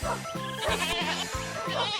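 A goat in the Minecraft video game bleats in a quick run of about six short, nasal calls, close and fairly loud, with no talking over it.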